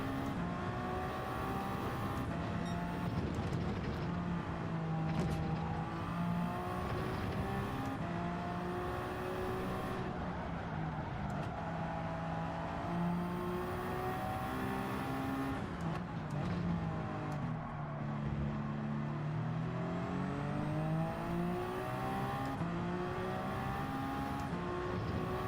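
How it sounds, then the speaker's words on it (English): Race car engines in Gran Turismo 7 during an online event at Fuji, a continuous loud whine of revving engines rising and falling with gear changes and passing cars, no voices over it. "all of a sudden now we've got engine noise after we came out the pits"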